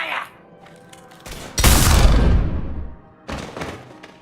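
A burst of weapon fire in Mass Effect 3, with a heavy booming blast that rumbles and fades, followed by sharper shots, punchy and close.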